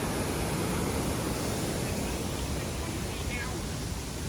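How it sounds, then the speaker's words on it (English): A waterfall beside the Appalachian Trail near the Kennebec River gives a steady, broad rushing roar that stays even throughout. "I just got to give you these waterfalls when I can."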